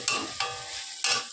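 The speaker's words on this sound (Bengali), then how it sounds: "মশলাও ভাজা হয়ে গেছে, এই যে তেল ছেড়ে দিয়েছে। এবার হচ্ছে চিকেনগুলো দিয়ে দেবো।" Chicken pieces dropped into hot oil with fried spices burst into sizzling three times in quick succession, each loud hiss fading into a steady crackle.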